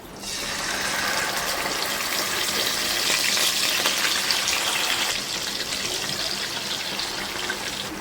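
Yogurt-marinated chicken pieces for kabab fry in hot oil and ghee, producing a loud, continuous, even sizzle that holds steady throughout.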